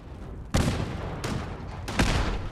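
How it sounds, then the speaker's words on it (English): Three sharp, loud blasts a fraction of a second apart from a grenade explosion and gunfire in Fallout 4, each cracking in close and trailing off into a rumbling tail. "Oh, a grenade will fix that."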